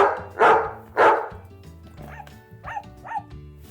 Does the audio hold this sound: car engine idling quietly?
no